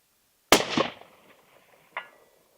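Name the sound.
Winchester Model 70 .270 rifle shot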